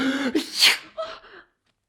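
A single loud, close sneeze with a sharp gasp-like intake and burst, in a Polish children's forest story, followed by a brief trailing breath and then silence.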